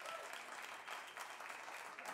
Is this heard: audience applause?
yes